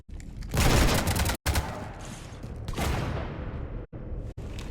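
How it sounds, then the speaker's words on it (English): Dense sustained gunfire in Mass Effect 3, weapons shooting at a ship, coming in loud continuous bursts broken by a few abrupt gaps and cut-offs, with no talk over it. "You want to stop shooting up my ship?"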